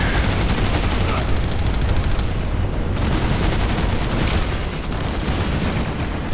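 A Planetside 2 video game weapon fired in a sustained magazine dump, a continuous loud stream of rapid shots running through the whole stretch with no pause.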